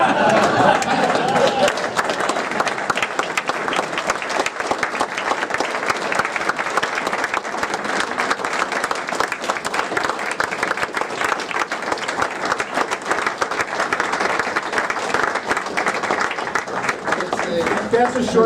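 Sustained, dense applause from the audience at an Ohio wrestling officials Hall of Fame ceremony, steady and loud throughout with crowd noise mixed in.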